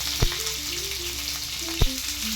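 Chopped onion and two garlic cloves frying in hot oil with a spoonful of black cumin in a pan, a close, continuous dense sizzle with two soft knocks of a spatula and no voices.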